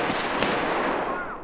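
Gunshots in Escape From Tarkov crackle as a loud, dense burst that trails off, with a faint voice underneath.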